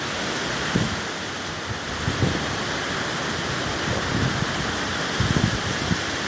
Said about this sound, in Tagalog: Nalakas ang ulan.